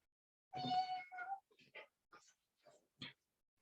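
A voice imitates a cat's meow during a kamishibai storytelling, a drawn-out wavering cry followed by several short, softer mewing sounds with pauses between them.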